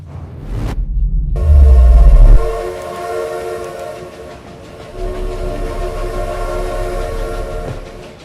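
A train pulling a caboose in the video game Outer Wilds: a brief whistle, a heavy low rumble, then a sustained tonal horn over steady rolling rail noise, loud and close with no talk.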